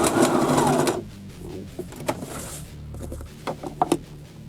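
A sewing machine runs through fabric in a rapid, close whir for about a second, then stops. Scattered clicks and small mechanical knocks follow in a quiet room.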